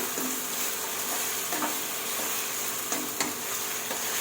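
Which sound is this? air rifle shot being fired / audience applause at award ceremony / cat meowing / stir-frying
stir-frying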